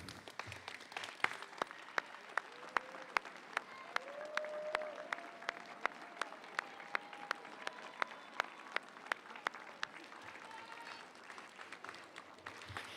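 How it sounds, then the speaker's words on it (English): Graduate commencement audience applauds supporters for several seconds, steady dense clapping with sharp individual claps standing out near, and a sustained tone underneath. "give them a big round of applause for all their support"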